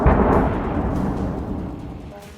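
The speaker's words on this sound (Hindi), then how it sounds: "अचानक बहुमंजिला इमारत से ड्रोन टकराता है, जोरदार धमाका होता है।" A heavy blast from a drone striking a high-rise building in Kyiv at night, a loud boom that rolls and decays into a long, fading rumble.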